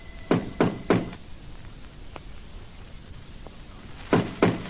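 Three firm knocks on a door, a pause with faint taps, then two more knocks, close and clear.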